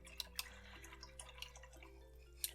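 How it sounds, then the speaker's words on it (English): A watercolor paintbrush is rinsed in water, giving a few faint, sparse drips and light taps over a low steady hum. "Just want to make sure I rinse out my brush really,"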